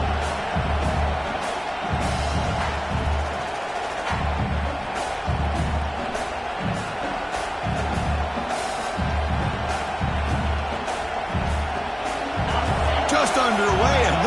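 Home crowd roars steadily in a football video game, a dense, sustained stadium wash that swells near the end, running under continuous commentary.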